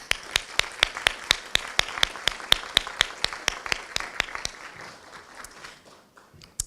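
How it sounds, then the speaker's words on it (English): Rhythmic clapping at a college co-op ceremony: a steady run of sharp, evenly spaced claps that thins out and trails off after about four seconds, ending in near quiet with a final stray clap. "I'd like to give all of you and give yourselves a nice round of applause"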